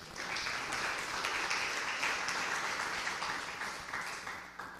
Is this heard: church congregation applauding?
yes